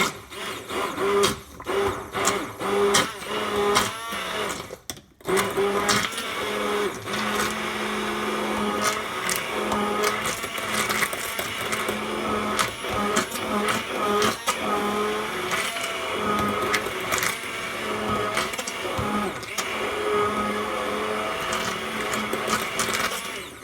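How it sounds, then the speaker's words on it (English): A blender whirs steadily while mixing a thickening CBD lotion, a loud continuous motor drone with a brief dip about five seconds in, then running on without pause. "See how it's thickening up and starting to become a lotion? And just keep blending."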